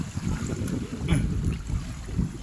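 Steady wind rumbling and buffeting across the microphone outdoors near water, a continuous low roar without speech.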